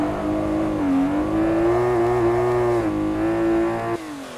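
BMW E30 drifting under handbrake on the Nordschleife in Assetto Corsa, its engine holding a loud, steady high-revving drone with slight pitch swings, then dropping off abruptly near the end.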